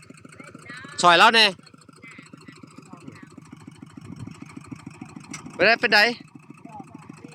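A new tractor engine idles in a steady, close, low chugging rhythm throughout, while someone speaks over it in two short bursts.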